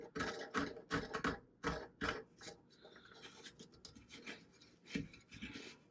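A toilet fill valve nut being tightened by hand beneath the tank, giving close, dry rasping and rubbing scrapes in short repeated bursts.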